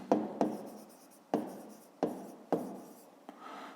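A pen scratches out strokes on paper while a fifth-grade maths exercise is worked by hand: several short, close scribbling bursts, each starting with a sharp tap and trailing off, with no talk.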